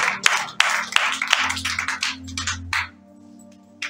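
A church congregation claps together in dense, close applause for nearly three seconds, then stops abruptly, leaving a low steady hum in the room and one faint final clap.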